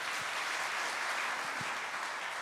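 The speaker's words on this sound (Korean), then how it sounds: "박수 한번 쳐주세요." A church congregation at a Friday evening prayer service claps together, producing a steady, even wash of applause with no talk over it.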